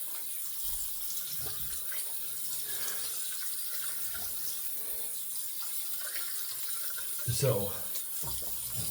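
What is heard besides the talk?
water running from a tap for rinsing after shaving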